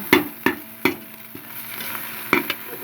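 Vegetables and crushed green chillies fry in oil in a pan, with a few sharp scraping stirs of a spoon standing out over a steady soft sizzle, close and clear.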